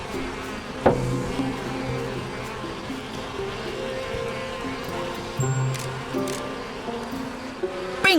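Bees drone in the video game Elroy and the Aliens, a steady low buzzing hum lasting throughout, broken by a few sharp knocks and clicks.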